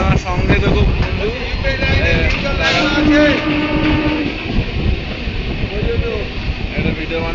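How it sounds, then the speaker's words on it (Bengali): A train races past at full speed, a loud, continuous rumble with clattering wheels and a brief horn-like tone partway through, while voices murmur nearby. "ট্রেন যাচ্ছে ফুল স্পিডে"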